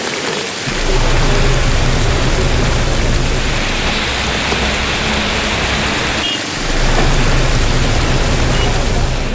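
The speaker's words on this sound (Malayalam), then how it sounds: "രണ്ട് ദിവസമായി തുടരുന്ന മഴയ്ക്ക് കണ്ണൂരിൽ ഇന്നും ശമനമില്ല." Heavy monsoon rain pouring down in Kannur, northern Kerala, a loud dense constant roar of rainfall on surfaces with a brief lull partway through, no voices.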